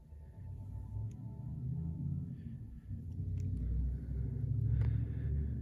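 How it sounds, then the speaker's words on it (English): A 1990s Ford Ranger pickup fitted with semi-truck exhaust stacks in the bed roars past outdoors, its deep engine rumble swelling as it approaches and staying loud toward the end. "There goes that damn loud ass truck. It's a little 90s something Ford Ranger with freaking semi-truck stacks in the bed."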